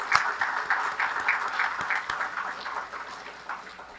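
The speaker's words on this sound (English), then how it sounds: "So let's give a big round of applause" Audience at an awards dinner applauding with steady, close clapping that holds for several seconds before gradually thinning out.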